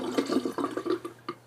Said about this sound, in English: Let me just empty the sink to get those whiskers out.